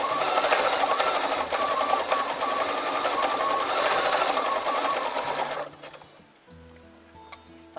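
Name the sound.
Bernina B880 sewing machine free-motion stitching with BSR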